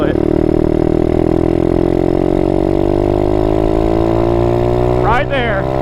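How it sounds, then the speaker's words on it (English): An Apollo 125RFZ motorcycle engine in third gear, suspected of internal damage, revving steadily with a rising droning pitch as the throttle rolls on, loud and close, with someone talking briefly near the end. "I'm gonna roll into the throttle and I'll tell you when I feel it."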